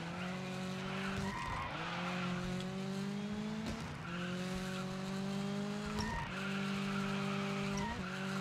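Cars drift and skid in the DIRT 5 racing game, with high engine revs and long tire squeals that rise and fall through repeated slides. They sound close, loud and unbroken, with no talk.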